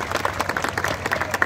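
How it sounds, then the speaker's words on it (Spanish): Crowd at a municipal sports field inauguration applauding: a brief burst of steady clapping from many people, dense and fairly close, with a low hum underneath. "quiero pedir un fuerte aplauso también a todo el equipo"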